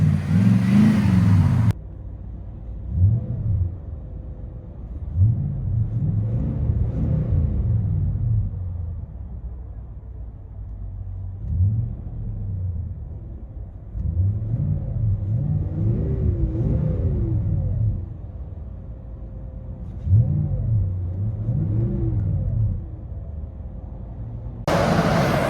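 A 2018 Nissan Titan Pro-4X with a 5.6-liter V8 and Borla Pro XS exhaust, heard from inside the cab, gives a deep droning rumble that swells in several revving pulses and settles back between them.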